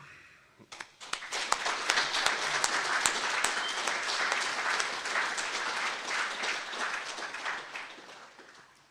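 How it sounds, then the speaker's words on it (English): Mourners at a funeral service break into applause and cheering, scattered claps at first swelling into full, steady clapping from the gathered crowd, then easing off at the end. "I think it's appropriate, friends, if we actually all gave Ali a cheer today"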